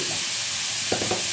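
Pieces of pointed gourd (potol) hit a hot pan with a little oil and sizzle with a steady, bright hiss, and a few quick stirring scrapes and knocks follow near the end.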